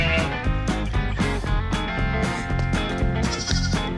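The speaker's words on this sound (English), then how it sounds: "Tyler's got the little white sheep." A little white sheep bleats repeatedly while held by a child on a farm, close and fairly loud, in a run of wavering calls with no speech over them.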